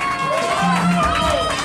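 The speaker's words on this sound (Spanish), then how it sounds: "que se junten esos aplausos para toda la persona que está cumpliendo hoy" A party crowd on a yacht off San Andrés island cheers and claps for a birthday, a brief burst of loud whoops and crowd noise with voices mixed in.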